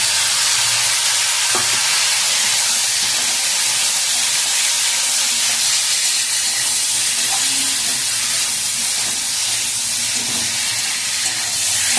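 Ridge gourd frying in a pan, a steady loud sizzle and hiss that fills the whole stretch, close up, with faint occasional stirring knocks beneath.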